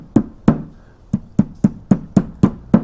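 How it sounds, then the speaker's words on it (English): Eight sharp metallic hammer strikes, close and loud, seat a CV boot clamp on a 1998 Polaris Sportsman 500 ATV, landing in a quick, slightly uneven rhythm with no talk. "You want to hammer it down like that."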